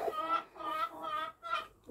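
A hen on a farmyard clucks in a close, clear series of four drawn-out calls with brief pauses between them, and no voices are heard.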